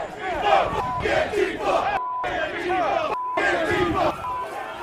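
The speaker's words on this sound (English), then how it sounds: "the crowd of economically anxious insurrectionists advanced on the Capitol" A large crowd of insurrectionists storming the Capitol shouts and roars in a dense, continuous mass of voices, with a couple of abrupt cuts between segments of the news recording.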